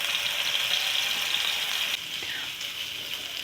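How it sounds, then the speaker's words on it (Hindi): Garlic-ginger paste frying in hot cooking oil, a steady hiss of sizzle that runs continuously and eases slightly partway through, close and moderately loud with no talking. "आएगा लहसुन अदरक का पेस्ट, इसको अच्छी तरह मैं भून लूँगी थोड़ा सा"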